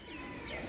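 Pigeons in a loft give soft, continuous cooing and murmuring, faint and steady for under a second with no talk over it.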